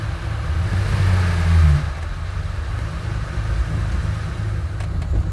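A 1974 Porsche 911 Carrera RS engine idles with a low, throbbing mechanical rumble, swelling briefly in a blip of revs before settling back to a steady idle, close and loud without talk.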